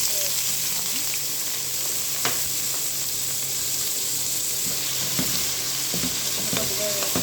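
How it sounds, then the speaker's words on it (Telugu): Onion pieces frying in hot oil, a dense steady sizzle up close with occasional sharp crackles and light stirring knocks, no talking. "ఉల్లిపాయ ముక్కలు వేగిపోయాయి."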